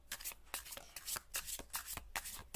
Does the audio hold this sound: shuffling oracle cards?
yes